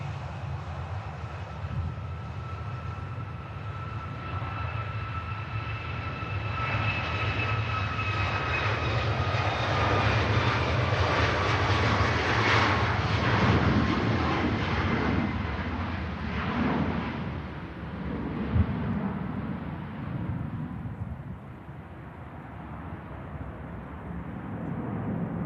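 A TUI jet departs Manchester Airport, its engines building into a loud, sustained roar with rising whine tones that swells near mid-pass and then slowly fades as the aircraft climbs away.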